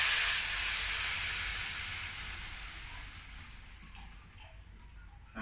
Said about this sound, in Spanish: Vamos a sofreír.